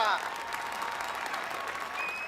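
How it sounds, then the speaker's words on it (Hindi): Brief burst of studio audience clapping for a contestant in a televised cooking contest, steady and fairly loud, with a voice briefly audible at the start. "तालियां।"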